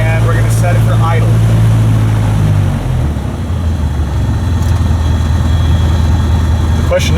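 A Cessna 152 light aircraft engine idles with a steady low drone that holds close and loud throughout, with brief speech over it near the start.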